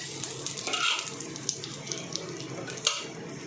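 Cumin seeds tempering in hot oil after chillies, a soft continuous sizzle and crackle with a few sharp pops and faint clinks, fairly quiet and close.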